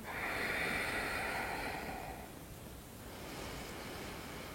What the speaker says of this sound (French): Et je respire.